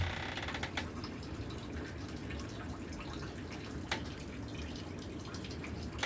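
Maple sap beginning to run from a Bilodeau 2x6 evaporator at a sugar shack, a faint steady trickle of liquid with occasional soft drips and clicks, no voices.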